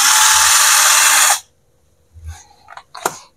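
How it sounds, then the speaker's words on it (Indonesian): A close, loud drill priced around 200,000 rupiah runs with a steady high whine, then cuts off suddenly; a few soft clicks and handling knocks follow. "Ini bor yang harganya 200 ribu, suaranya seperti ini."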